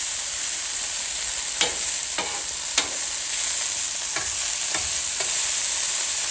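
Food frying on a Callow 4-burner plancha, a steady bright sizzle with scattered scraping clicks of a utensil, close and without any talk.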